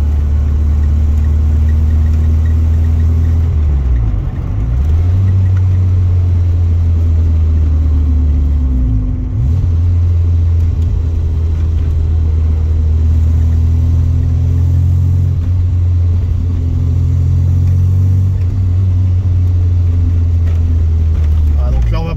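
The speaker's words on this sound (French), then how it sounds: "Je vais vous laisser sur ces images écouter le son moteur" A Peugeot 205 GTI engine runs close by with a loud, continuous rumbling hum, dipping briefly a few times as the revs drop and come back.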